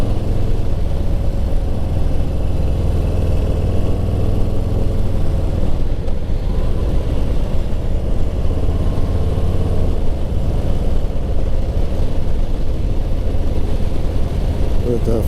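A 2020 Harley-Davidson Softail Slim motorcycle on a road ride, its deep engine rumble steady and close with wind and road noise, while a voice talks over it throughout.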